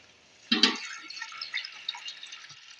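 Water is poured into a pan of softened, sautéed onions with a sudden splash, then a fainter, crackling sizzle that fades over the next couple of seconds.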